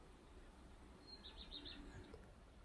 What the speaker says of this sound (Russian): Утром птички поют.